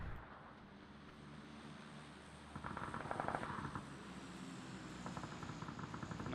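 Gunfire in PUBG, with rapid bursts of shots clustered in the middle and again near the end, set over a steady droning engine-like background.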